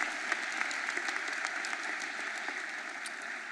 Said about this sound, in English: Give our Council President a huge round of applause